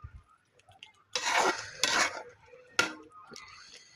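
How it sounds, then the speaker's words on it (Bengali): Tomatoes are stirred in spiced masala in a pan for a rohu fish curry with cauliflower. Three scraping, clattering strokes of a utensil against the pan sound up close, with quiet pauses and faint clinks between them. "আমি এখানে টমেটোগুলোকে ভালো করে কষিয়ে নেব।"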